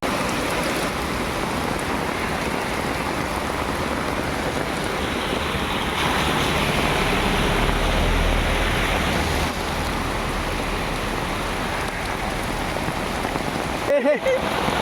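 Steady rain in misty Vagamon, Idukki, Kerala, pattering down on surfaces, a constant wash of hiss that fills the whole stretch, with a brief sharp knock near the end.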